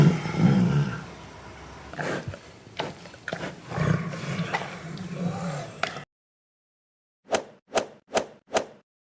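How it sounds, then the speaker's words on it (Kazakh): A cartoon tiger roars in a children's animal-silhouette lesson, a rough, growling roar rising and falling over about six seconds, then silence and four short, sharp hits in quick succession. "Бұл жолбарыс."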